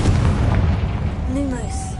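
A booming Confringo explosion spell from Hogwarts Legacy on PS5 bursts over a dense rumbling backdrop, with game sounds and a voice layered on top.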